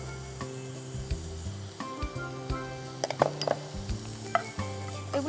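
Potato chop filling with coriander leaves frying in a pan, soft sizzling under repeated stirring scrapes and light metallic clinks of the spoon against the pan.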